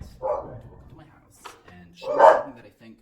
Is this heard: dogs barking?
yes